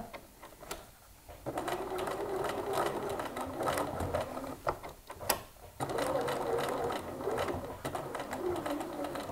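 Sewing machine stitching the front pockets of a pair of jeans, running in steady mechanical bursts with a rapid needle rhythm that pauses briefly between stretches of sewing.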